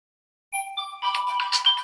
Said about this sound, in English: So what I'm going to use to do is to choose this particular ringtone now.